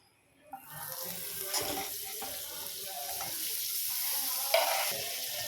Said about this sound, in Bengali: এদিকে আমি ক্যাপসিকাম আর টমেটোটা ভাজবো। আমি বাটারটা দিয়ে দিলাম